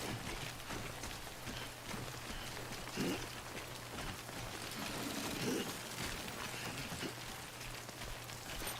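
Timefall rain in Death Stranding falls in a steady, dense patter on surfaces. The hiss is quiet and continuous, with faint splashes now and then and no voices over it.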